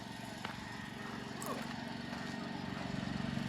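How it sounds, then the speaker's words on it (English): A lawn mower cuts grass at Margam Country Park in South Wales, a faint steady engine drone at a distance throughout, with a brief knock and outdoor background. "We got somebody mowing the grass, you know, keeping the grass level"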